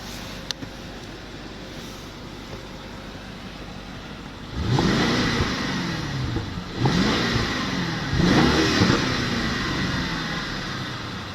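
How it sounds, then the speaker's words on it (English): A 2013 BMW 650i Gran Coupe M-Sport idles, then rises into two or three strong revs, each swelling loudly then falling back with a rumbling exhaust burble as the revs drop. "Beautiful power yet muscular sound with a little bit of exhaust burble coming down through the RPMs."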